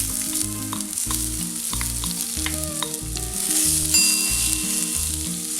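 Finely chopped large onions fry in hot coconut oil with mustard seeds and crushed garlic, a loud continuous sizzle up close with occasional stirring scrapes, and no talking.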